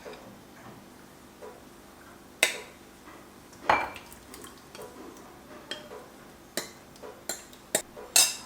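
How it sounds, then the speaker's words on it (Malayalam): Light clinks and taps of dishes and a spoon ring out at uneven intervals while fruit pudding mixture goes into individual bowls. The sharp, faint knocks are heard alone against a quiet room. "ഞാനിങ്ങനെ ഓരോ പാത്രത്തിലായിട്ട് ഒഴിച്ചു കൊടുക്കുകയാണ് കേട്ടോ."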